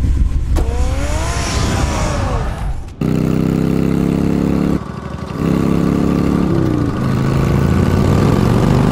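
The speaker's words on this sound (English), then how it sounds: "Get the car ready, Alfred." A car engine drones loudly in the Batman Telltale video game, rising at first, then holding a steady hum that cuts out and resumes, with no voices.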